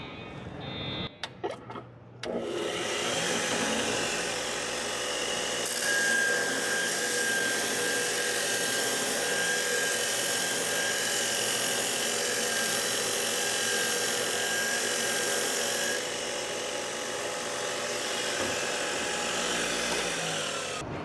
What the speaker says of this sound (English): water-cooled belt grinder is best suited for someone who really has bad blades to do, that has to take a tremendous amount of material off the blade